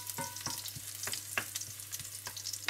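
Sliced garlic cloves sizzle and crackle in hot olive oil, a close, steady frying hiss broken by frequent sharp pops and spits throughout, with no voices.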